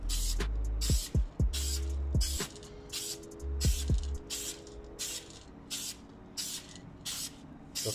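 Spray paint can coating car brake calipers in a garage, a series of short hissing bursts of varying length, close up, with gaps between sprays and a few rattling knocks.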